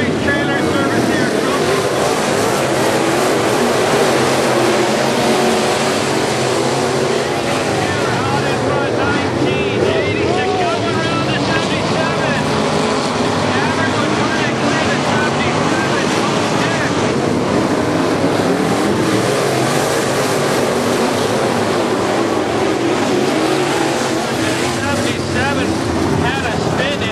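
IMCA Modified race cars roar off at the green flag at Barona Speedway, a loud continuous wall of engine noise with heavy wind buffeting the microphone throughout.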